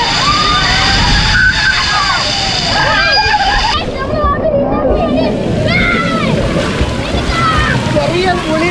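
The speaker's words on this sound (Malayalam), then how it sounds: "ബക്കറ്റ് നിറയാറായി." Water crashes and sloshes down from a giant tipping bucket at the Wonderla water park, a continuous heavy splashing mixed with excited voices and shouting close by.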